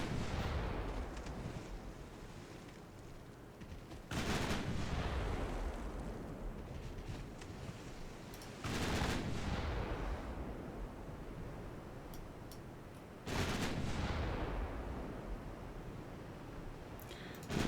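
Three heavy booms from naval guns firing high explosive shells in a Korean War campaign game, each a loud sharp blast with a long rumbling decay, spaced several seconds apart over steady low ambience.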